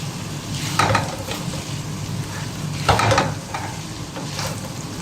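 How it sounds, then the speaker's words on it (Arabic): Meat and celery sautéing in a pot, a steady close sizzle and frying hiss with occasional scraping stirs and utensil knocks against the pot, with no talk. "هنا حمس، شوفوا بدا يحمس"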